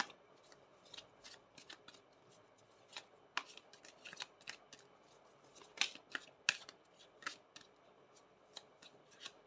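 Tarot cards shuffled and drawn, with quiet, close, scattered snaps and riffling flicks against a soft background, and no one speaking.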